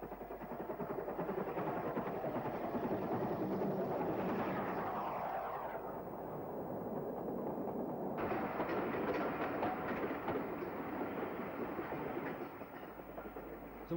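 A tour train hauled by locomotive 33006 rolls toward Gosport via Fareham, a loud continuous rumble with rhythmic clickety-clack of wheels on rail joints, the tone shifting as it passes close by.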